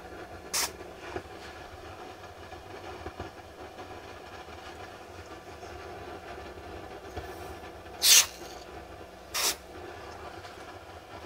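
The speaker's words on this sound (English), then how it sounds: "let me see if I can get some cold spray on this" Cold spray hisses onto a part inside an Akai GX-230D open reel tape deck under restoration, in a few short sharp bursts, the longest near the end, over a steady low background hum.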